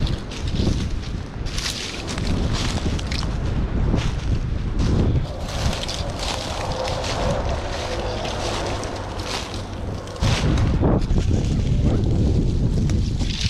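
Strong wind blasts across the microphone outdoors, loud and continuous, with gusty surges and a rumbling low roar for the whole stretch.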